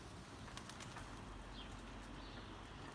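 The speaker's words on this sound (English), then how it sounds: "doves have turned up in my garden" Doves in a garden, with wings flapping and faint cooing heard from a distance against steady outdoor background noise, plus a few soft flutters.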